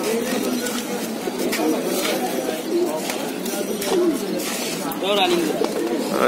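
Pigeons at a Mirpur 1 pigeon market coo over and over in soft, rolling, overlapping calls, close by and continuous, while people talk in the background.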